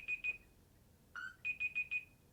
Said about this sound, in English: it starts beeping at 30 seconds